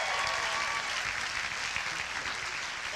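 Sustained audience applause fills an awards ceremony at a Christian high school, a dense, steady clatter of many hands at moderate level with no speech over it.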